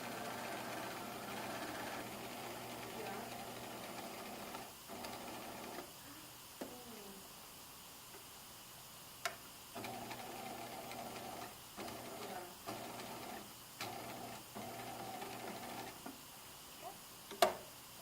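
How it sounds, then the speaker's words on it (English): A sewing machine stitches the curved edges of fly shield pieces for a fly zipper, running in steady mechanical bursts separated by short pauses and occasional clicks, fairly quiet and close. "Prepare the fly shield pieces by stitching the curved edges right sides together with a"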